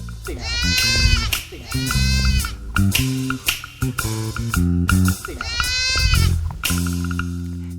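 Dairy goats on a Thai goat farm bleat loudly and close by in several wavering calls, some overlapping, with short pauses between them.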